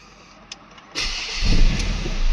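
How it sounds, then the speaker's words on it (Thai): A quiet moment, then a 2015 Ford Ranger 2.2 pickup's diesel engine cranks and catches, settling into a loud, low rumbling idle close by. "เอาฟังเสียงเครื่องยนต์กันหน่อยว่าเป็นยังไง"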